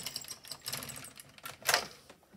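An LK150 knitting machine carriage is pushed across the needle bed to knit a single row at stitch size 7, giving a close, clattering mechanical rattle with a louder swish near the end.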